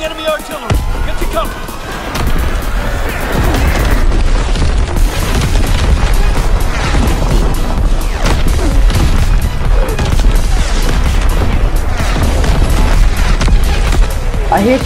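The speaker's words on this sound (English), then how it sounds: "Enemy artillery!" Artillery shells burst one after another in Call of Duty WWII, loud heavy booms piling into a constant barrage, mixed with scattered gunfire throughout.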